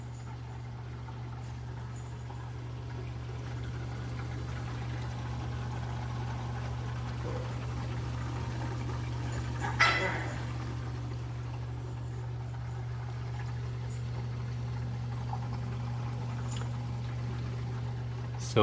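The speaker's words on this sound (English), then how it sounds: "all you probably hear is just water coming down the pipe and maybe a little bit of water in my overflow" Saltwater aquarium system in a 75-gallon tank, with water running down a pipe into an overflow as a faint, steady trickle beneath a low, constant pump hum and one brief splash midway.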